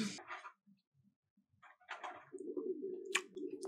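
A pigeon-like bird cooing in an anime episode, soft and fairly close, in short broken bursts that settle into a steady low coo at the end, with light incidental sounds between.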